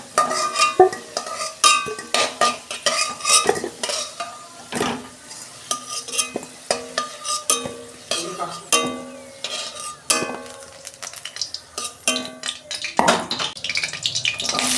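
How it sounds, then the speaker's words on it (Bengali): Potatoes fry in hot oil in a pan while a utensil stirs and scrapes them, producing a busy crackling sizzle with frequent sharp clinks and scrapes, close and fairly loud, with no speech. "তেল গরম হয়ে গেছে, প্রথমে আমি আলুগুলো ভেজে নেব।"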